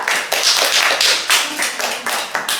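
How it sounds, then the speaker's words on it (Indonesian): Schoolchildren in a classroom clap their hands for a classmate, a lively patter of many small claps in uneven bursts, close and fairly loud with no talking. "kita tepuk tangan dulu untuk teman kita"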